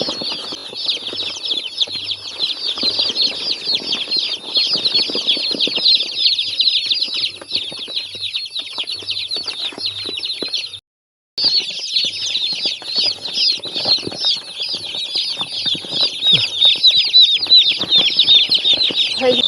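Hens and chicks cluck and chirp busily throughout, with frequent bursts of wing flapping and scratching; the noise is steady and close, dropping out briefly once.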